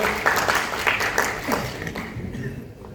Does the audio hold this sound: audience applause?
yes